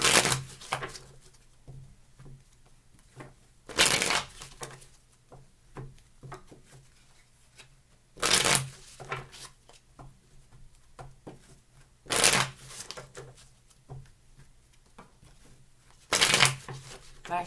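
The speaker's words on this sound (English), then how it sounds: "Last shuffle, please." Tarot cards are riffled in four or five short, loud bursts spaced a few seconds apart, with quiet handling and faint rustles between shuffles.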